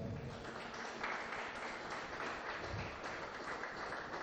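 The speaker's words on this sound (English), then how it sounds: "a round of applause for Honorable Biodun Ogunleye" Audience applause in a conference hall at a Nigerian energy business event, a sustained, steady wash of clapping from a sizable crowd lasting the whole moment without a break.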